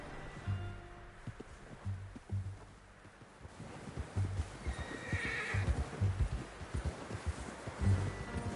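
A horse in a video game neighs and its hooves clop on the ground, with low snorts and hoof beats spread across the stretch, wind noise in the background and a brief whinny near the middle.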